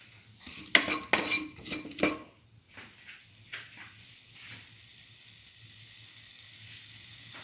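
Salted eggplant and bread stir fry being mixed in a pan: a cluster of metal utensil scrapes and clinks against the pan, then a quiet low sizzle that continues alone.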